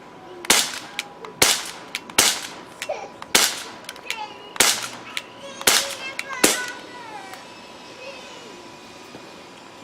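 Crosman 1911 CO2-powered BB pistol firing eight sharp, loud cracks at a fairly even pace over about six seconds, each with a short ringing tail, followed by quieter room noise.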